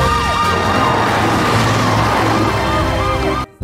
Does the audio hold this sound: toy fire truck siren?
yes